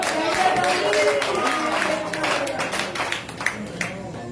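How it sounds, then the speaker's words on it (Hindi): An audience at a Hindi comic poetry gathering breaks into brisk clapping that gradually thins into scattered claps, with some voices over it. "आप जोर जोरदार तालियां"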